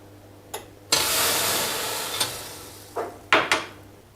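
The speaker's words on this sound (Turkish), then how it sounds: "Kaynar suyum da burada. Hemen döküyorum ve kapatıyorum." Boiling water poured onto a hot oven tray beneath bread erupts in a loud hiss and sizzle lasting over a second, fading gradually, with a few sharp clicks and metallic clatters around it.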